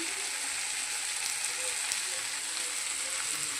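Spinach dropped into a hot pan with fritters already frying, giving a steady bright sizzle and crackle that holds evenly with a few faint pops.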